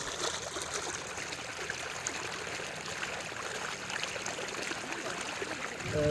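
Water from a pump running river water through a hose into a rice field, a steady trickling, splashing flow at moderate distance, with a brief low rumble rising at the end.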